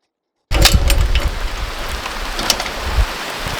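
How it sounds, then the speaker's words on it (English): Steady rain falls outdoors, a dense hiss with scattered louder drops and spatters that begins abruptly and carries on close by with no talking. "it started to rain"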